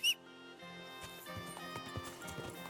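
Horse hooves clip-clop steadily in the medieval video game Kingdom Come: Deliverance II, a close, even rhythm of soft thuds laid over a continuous music bed, starting after a brief sharp click.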